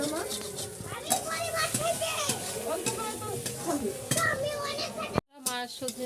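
Drumstick flowers fry in a pan, a soft sizzle and stirring scrapes running beneath near, continuous talking, with utensil clinks and a brief drop near the end.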